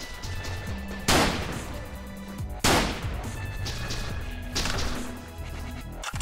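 Gunfire in The Legend of Alfur, a Japanese indie first-person shooter, with three sharp, loud shots spaced about a second and a half apart, each with a booming tail, set against a background of game music.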